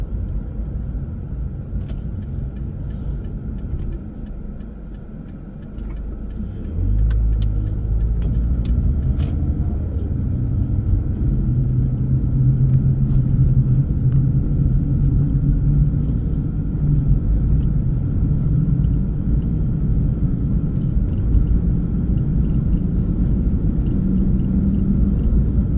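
Car driving along a road toward the Springer Mountain Trailhead, a steady engine and tire rumble that grows louder and fuller after a few seconds and holds continuously, with no talk.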